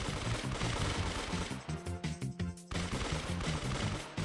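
Rapid machine-gun fire in a video game, continuous rattling shots that pause briefly before resuming, steady and loud throughout with no talk.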